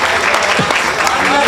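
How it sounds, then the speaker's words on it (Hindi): An audience at a Hindi comic poetry stage show breaks into loud, brief applause, with a voice heard through the clapping. "भाई तालियां जरा हो जाएं"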